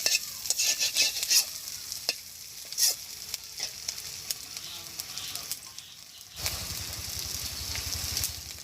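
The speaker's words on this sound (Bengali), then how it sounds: "একটু ফাঁকা করে আমি এখন পেঁয়াজটা দিয়ে দিই" Onion dropped into hot oil beside frying mustard fish sets off a loud, close hiss, after several sharp scraping stirs against the pan, the sizzle swelling and holding steady to the end.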